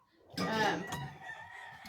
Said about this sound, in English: Them chickens are squalling